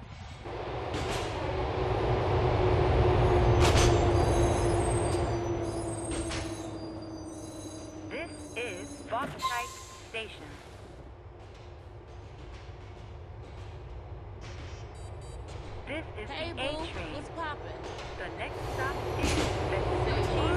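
Train running in GTA4, with a loud rolling rumble that swells and fades, a falling whine and scattered clacks and rattles over a steady low drone.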